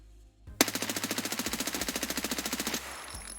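MPX submachine gun in Escape From Tarkov firing one long rapid automatic burst of about two seconds, evenly spaced sharp shots, loud and close, then silence.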